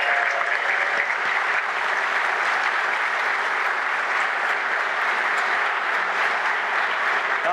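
An audience at the XOXO Festival conference gives sustained, dense applause, loud and steady for the full length, with no break in the clapping.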